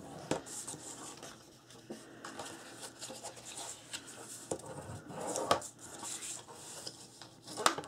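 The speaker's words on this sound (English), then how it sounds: "Now this is going to go ahead and fold and burnish these really well." Scored paper for a mini album folded and burnished with firm rubbing strokes, close and moderately loud, with scraping swipes and a few sharp taps scattered through the clip.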